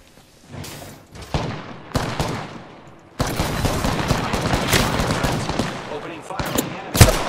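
Automatic gunfire in Apex Legends, a dense, continuous burst of rapid shots with a few separate sharp reports before it, loud and close, with game sound effects mixed in.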